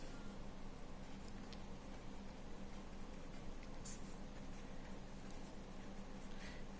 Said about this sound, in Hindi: अब हम इसमें लिखेंगे